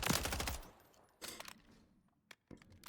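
Short bursts of automatic fire come from an MTZ-556 rifle in Modern Warfare 3 Zombies: one long rattling volley, a second burst, then a single shot and a final brief burst. The fire is fairly quiet, with no talking.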